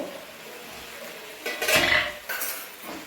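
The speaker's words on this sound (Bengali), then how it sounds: "এখন আমি ঢাকনা খাইয়ে দেব।" Metal clatter of a lid set onto a cooking pot, with a louder clank in the middle and a smaller rattle at the end over a low background hiss.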